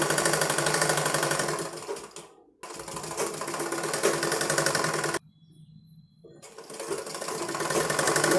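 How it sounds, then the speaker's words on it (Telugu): A sewing machine stitches thread piping onto a blouse neckline with a single presser foot. It makes a steady, close, rapid mechanical chatter that runs in three bursts separated by two short pauses. "మనం ఈ పైపింగ్ కుట్టేటప్పుడు మనకి సింగిల్ పాదం పెట్టుకున్నాం కదా మనం సెంటర్లో పెట్టుకోవాలండి"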